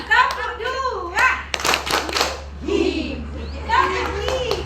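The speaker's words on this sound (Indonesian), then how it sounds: "Tepuk dua." Pupils in a classroom clap on cue, a pair of sharp hand claps in the middle amid children talking and giggling, with more talk continuing after.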